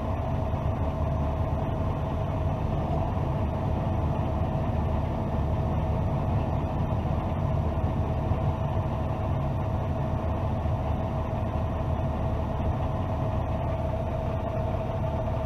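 A Fendt 933 tractor pulling a Veenhuis Premium Integral 30000 slurry tanker drives steadily, its engine a loud, constant, close drone from inside the cab, with no talk.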